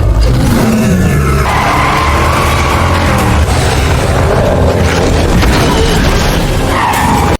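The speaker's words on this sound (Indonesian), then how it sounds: "Lalu Wesley pun tancap gas dan menabrak para manusia serigala yang berada di depannya." A car in a werewolf film honks, accelerates hard and rams into werewolves: a loud, dense roar of engine, skidding and crashing impacts that fills the whole stretch without pause.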